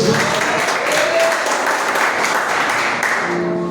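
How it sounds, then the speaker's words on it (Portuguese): Church congregation applauding during an overnight vigil service, a dense steady wash of clapping held at one level throughout, with faint voices underneath. "Aplauda o Senhor Jesus"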